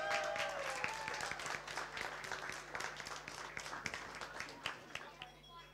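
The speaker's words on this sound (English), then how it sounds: "A round of applause." Wedding guests applaud as the bride and groom cut the cake, a broad burst of many hands with a few sharper claps standing out, easing off slightly toward the end, with a voice briefly audible near the start.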